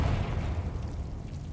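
A Confringo fire spell detonating in Hogwarts Legacy, heard as a deep, rumbling blast with a heavy low-end roar that holds steady and fades only slightly over a second and a half, with no voices.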